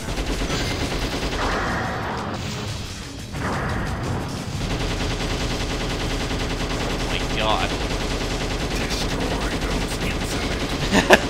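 Rapid automatic gunfire from the Shadow the Hedgehog video game, fired with unlimited ammo, rattles continuously over game music and effects, steady and loud across the whole stretch with a brief lull early on.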